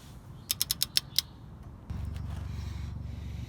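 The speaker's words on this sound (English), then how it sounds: "we're going to use a torque wrench to put the axle nut socket back, bring it to 60 foot-pounds" A torque wrench clicks six times in a quick run while an axle nut on a 2004 Nissan Xterra is brought to 60 foot-pounds, then a low steady rumble comes in close by with no voices.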